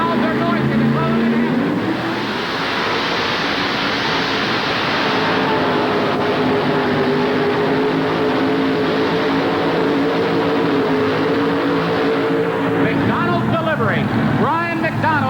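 A two-wheel-drive super modified pulling truck at a 1988 truck and tractor pull in Hampton roars continuously and loudly with a strong droning engine tone for the full run, with no break in the noise.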